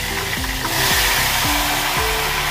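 Ghevar batter hitting hot oil in small pours, giving a loud, steady frying sizzle with soft bubbling throughout and no talking.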